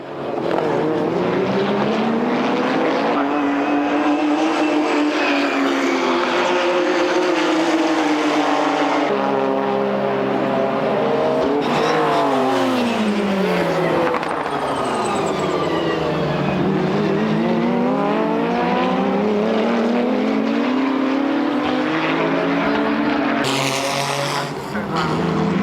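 1995 JGTC race cars, including the Calsonic Skyline overtaking the Unisia Jecs Skyline for the lead, scream past with loud rising and falling engine whines and Doppler sweeps, several cars in succession throughout.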